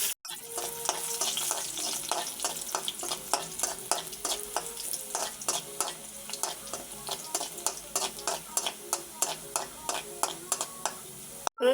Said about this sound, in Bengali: এবার গরম তেলের ভিতরে আমি রসুন কুচি দেব।